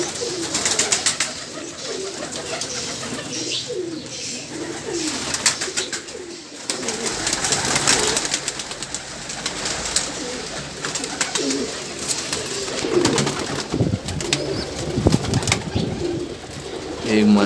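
Teddy pigeons in a breeding setup coo in repeated soft, throaty rolling calls, steady and nearby, while someone speaks intermittently over them.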